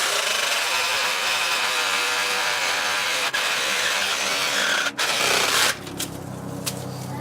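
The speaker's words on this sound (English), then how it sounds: "So this is my Porter Cable Sawzall. I'm going to use this to cut the limb." A Porter Cable Sawzall cuts through a thick limb while trimming a large bush outdoors, a loud, steady reciprocating buzz that stops near the end, leaving quieter outdoor noise.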